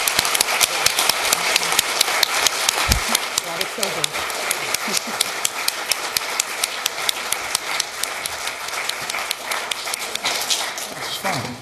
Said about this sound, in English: let's give all of the candidates a round of applause for their candid answers tonight